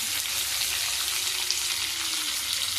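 Chopped green chillies and carrots frying in a pan for a hotel-style puri curry, a steady, close sizzle holding evenly throughout with no talk over it.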